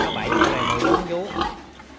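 A heavily pregnant sow grunts repeatedly on a pig farm, loud and close, with a person talking over the grunts.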